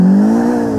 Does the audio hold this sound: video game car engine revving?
yes